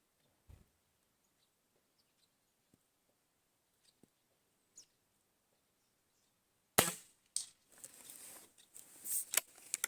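A Shanghai B1-1 air rifle fires a 0.45 g pellet in a sharp, close crack near 7 s, followed by mechanical clicks and rustle; a few soft taps occur earlier in otherwise quiet surroundings.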